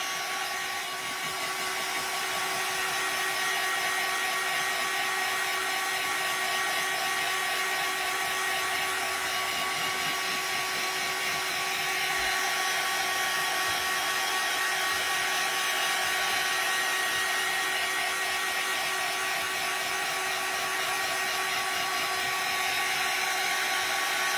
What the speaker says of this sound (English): I just put the heat gun right in the glue on the bottom.